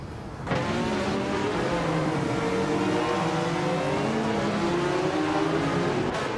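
A 1995 BMW M3 GTR Evo race car in a racing video game gives a loud, sustained engine drone that swells in and holds steady at high revs, with no other sounds.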